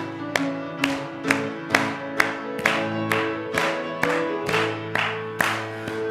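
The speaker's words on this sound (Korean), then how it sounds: "우리 계속적으로 힘차게 박수 치며 또 찬양 드릴까요?" A church congregation claps steadily in time with worship music at a Korean Presbyterian Sunday service, sharp even beats landing about twice a second over sustained singing and instruments.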